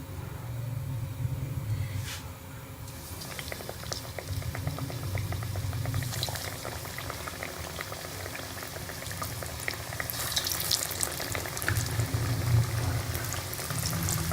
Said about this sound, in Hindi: ये मैंने कढ़ाई में घी को गर्म कर लिया है। अब मैं इसके अंदर ये सारे समोसे फ्राई कर लूँगी।